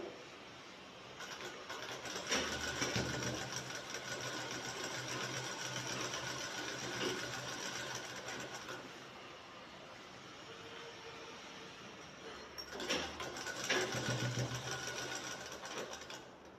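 Sewing machine stitching a shirt collar pocket, a rapid steady whirring buzz in two close bursts separated by a quieter pause, with no talk.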